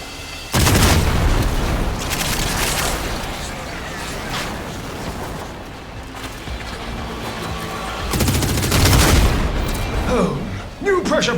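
Gunfire in a video game shooting a valve to release pressure: loud booming shots and crashes with mechanical clatter, two heavy bursts separated by a sustained rumbling noise.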